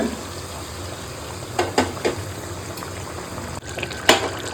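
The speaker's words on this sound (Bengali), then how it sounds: "একটু গরম জল আমি দিয়ে দেবো অল্প একটু গরম জল দেবো" Hot water poured into a pan of simmering chicken curry gives a few short splashing gushes over a steady low sizzle, close up.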